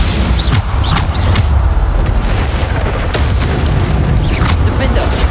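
Repeated Bombarda spell blasts in the Hogwarts Legacy video game, dense booming explosions rolling one after another over a constant loud layer of game noise and effects.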